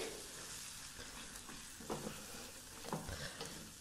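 A spoon stirring red chili powder and coriander powder into a sizzling masala for a spinach and black lentil dish, soft scraping strokes and light frying crackle at low volume.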